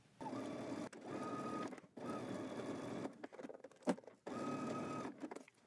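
A sewing machine stitches a dress seam in three steady bursts of close, whirring running, each about a second long, with short pauses and a brief clack between them.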